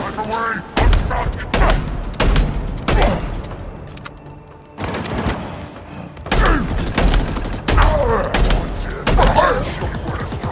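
Gunfire in the Halo Infinite campaign comes in loud, repeated bursts of shots and heavy thuds with brief gaps, mixed with game voices and combat noise.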